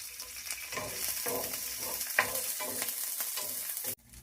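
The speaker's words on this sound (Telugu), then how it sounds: "ఆవాలు జీలకర్ర కొంచెం గోలిన తర్వాత దానిలోకి మిర్చి వేసుకుందాం" Mustard seeds, cumin and green chillies fry in hot oil. A continuous close crackling sizzle carries repeated stirring scrapes, then cuts off abruptly near the end, with no one speaking.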